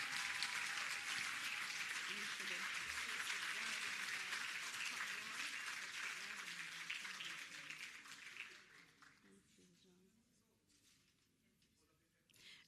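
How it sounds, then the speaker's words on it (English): Sustained applause from an audience at a PEP scholarship awards ceremony, a dense wash of clapping that holds steady for about eight seconds, then drops away quickly to a faint room hush. "A round of applause for Shannon."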